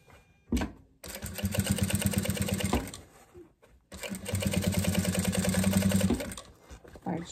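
A sewing machine stitches a toiletry bag with no interfacing, running in two loud, steady bursts of rapid rhythmic stitching separated by a short pause, close to the listener.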